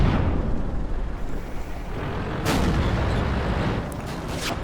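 A tank cannon shot striking a rock in the game World of Tanks, a heavy booming blast with a rumbling low roar, followed by a sharp crack and a second impact near the end.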